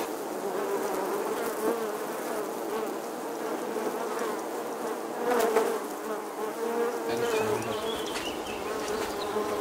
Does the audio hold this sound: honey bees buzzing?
yes